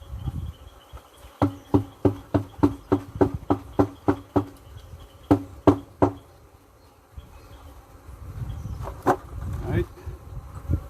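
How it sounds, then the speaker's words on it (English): Honey bees shaken out of a hive box whose field bees have died: a rapid run of about a dozen sharp knocks over a low hum, then a swelling, close buzz toward the end. "Shake out the bees."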